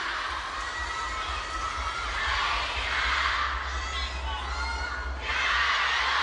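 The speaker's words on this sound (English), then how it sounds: "Listen to the crowd." Large crowd cheering at a women's table tennis quarterfinal in Hong Kong, loud roaring waves with high shouting that swell and ebb, rising again at the end.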